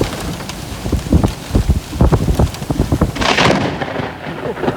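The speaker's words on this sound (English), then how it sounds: "I'm getting pelted with hail." A hailstorm during a supercell in Underwood, Queensland: hailstones pelt down amid rain and gusting wind, with thunder rumbling loudly and a burst of heavy noise toward the end.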